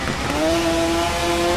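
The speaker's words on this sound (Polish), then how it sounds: "bo tak ten motocykl jest kurde za głośny" A motorcycle engine in the TT Isle of Man racing video game, a continuous loud high-revving drone with a rising whine, alone and close for a moment.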